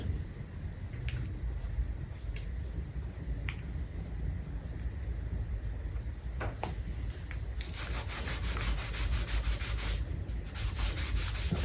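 Hand sanding of wood filler on a white pine bookshelf, a steady close-up rubbing scrape with a few sharp ticks and a brisker, stroke-like patch of sanding near the end, no talking.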